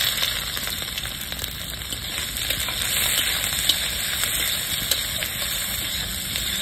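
Chopped onion frying in oil with small cardamom pods, cloves and bay leaves, a steady loud sizzle with occasional crackles and faint stirring, continuous and close.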